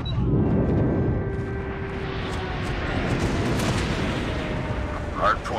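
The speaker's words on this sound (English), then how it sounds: "Friendly airstrike incoming" Heavy rumbling blasts from an airstrike in the mobile shooter Call of Duty Mobile, a dense continuous barrage of booms with crackling gunfire, loud and sustained, with game announcer voice callouts over the top.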